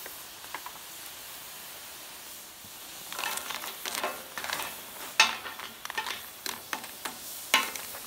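Lobster claws grilling in a pan, a soft steady sizzle broken by sharper crackles and pops from the second half onward, quiet and close.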